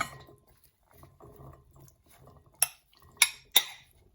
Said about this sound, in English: What I'm going to do now is mix them in a bowl together.